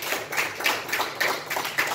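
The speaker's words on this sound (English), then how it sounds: "I'll give the Lord a hand clap" A church congregation claps hands in a steady, rhythmic beat during a Sunday evening service, with sharp repeated claps every quarter second or so filling the room, fairly loud and with no talking over them.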